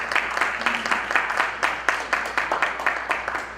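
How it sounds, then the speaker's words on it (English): Audience applause at a panel event on urbanization, a steady burst of many hands clapping that holds for a few seconds, dense and fairly close, with no voices over it. "A round of applause."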